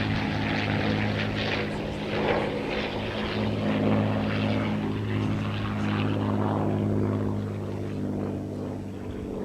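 A P-51 Mustang warbird flying a hesitation roll, its propeller engine droning as a loud, continuous, sustained roar throughout with slight swells in level.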